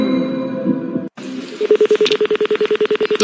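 Telephone keypad dialing on a quiz-show lifeline call: a steady run of about fourteen short, evenly spaced DTMF beeps, loud and clear after a brief hum and a moment of silence, with no talk over them.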